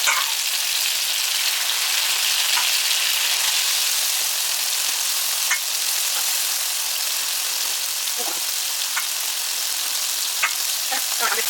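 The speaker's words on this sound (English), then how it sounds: "I'm going to use this oil now to fry off the onion, the pepper, the ginger," Onion, pepper, ginger and garlic fry in hot oil for a Jamaican-style brown stew chicken, with scotch bonnet pepper among them; a steady, loud sizzle runs throughout, broken by occasional sharp crackles and stirring clicks.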